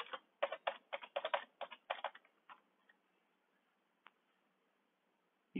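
Typing on a computer keyboard during data entry, a quick run of crisp key clicks for about two seconds, then a few isolated taps with silence between, close and fairly quiet.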